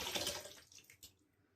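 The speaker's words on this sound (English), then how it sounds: "So I put some hot water on top" Hot water poured onto a puck of shaving soap gives a brief, quiet splashing trickle that fades within about a second, alone and without speech.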